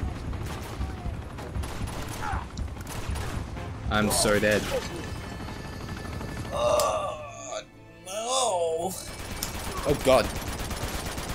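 Bursts of gunfire in the video game Uncharted 2 during a city battle, rapid volleys and sharp shots mixed with groans and game sounds, with a player's voice briefly heard.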